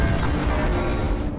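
Heavy explosion on a bridge in a war film, a dense booming rumble that fills the short moment loudly and fades at the end.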